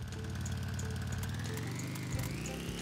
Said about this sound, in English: start the engine